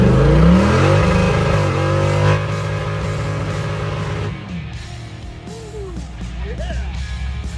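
Car with a carbureted 5.3 LS V8 doing a burnout: a loud, sustained engine roar held at high revs, dropping in pitch and level partway through as the revs settle, with a slight hesitation on throttle.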